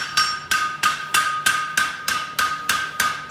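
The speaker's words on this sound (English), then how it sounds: "Just set them up before we hammer them in." A hammer strikes material in place in steady, evenly spaced blows, about ten sharp knocks in quick succession, close and loud with no talk.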